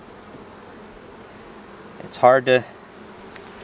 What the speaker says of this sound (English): We have lots of fuzzy bees up in here.